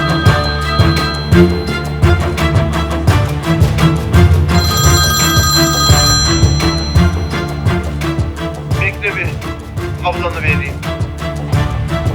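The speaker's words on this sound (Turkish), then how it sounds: "Bacın arıyor. O telefona bak da" A telephone rings repeatedly in a TV drama scene, its ringing tone partly buried under loud dramatic music and speech.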